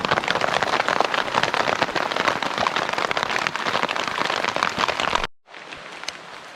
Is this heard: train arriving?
no